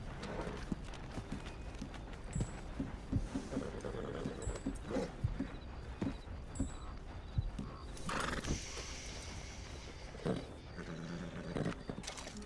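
Horse hooves clip-clop at a steady walking rhythm in Red Dead Redemption 2, with a whinny breaking through over a continuous wintry game ambience.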